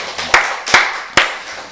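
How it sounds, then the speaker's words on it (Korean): Three sharp, loud claps ring out in a slow even rhythm at a church's Wednesday worship service, each one cracking out plainly with a short decay and no talking in between. "우리 박수로 하나님께 영광 드리겠습니다."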